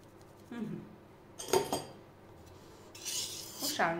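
Sponge cake batter being folded in a bowl, with scraping, clinking utensil strokes against the bowl coming in a few short bursts and a louder rub near the end, fairly close and otherwise quiet.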